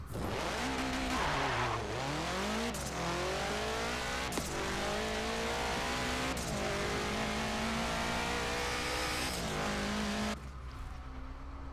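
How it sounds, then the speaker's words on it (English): Engine of a 700hp+ sleeper VW Type 3 in Forza Motorsport 7, loud and continuous, revving up through rising gear sweeps with abrupt shift breaks, bogging and straining, then cutting off near the end. "That is not why the car is bogging down."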